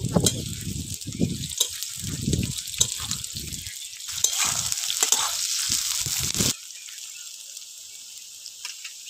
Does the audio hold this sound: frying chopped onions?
yes